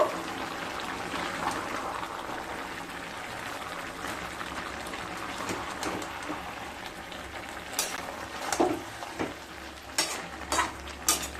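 Zucchini and slit green chillies are stirred in a pan, a soft steady sizzle under faint scraping, with a few sharper utensil knocks toward the end and no talking.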